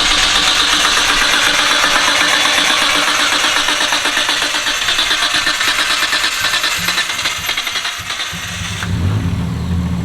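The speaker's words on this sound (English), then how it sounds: "Start it up and get this thermostat to open up. Cold start" A Nissan Skyline R34 with a swapped RB30DET engine cold-starts and runs loud and steady, a dense continuous engine roar for the whole stretch that shifts in tone near the end.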